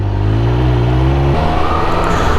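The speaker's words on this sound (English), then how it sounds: "the exhaust note is nowhere near as nice as the Street Triple" Triumph Speed Triple 1200 RS motorcycle with a stock exhaust, its engine revving up through a steady, loud, droning note that climbs and then drops back, heard alone without voices.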